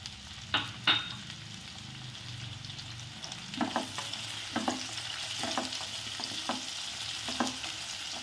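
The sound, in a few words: spring onion, onion and capsicum stir-frying on high flame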